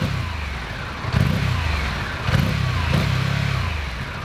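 A Harley-Davidson Pan America Special V-twin motorcycle engine idles with a deep, lumpy rumble, blipping the throttle several times in short revs; close and fairly loud, no talking.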